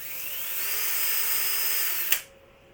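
A power drill bores a hole through a Meccano metal part, whining steadily for about two seconds before a sharp break-through click and sudden stop, then quiet.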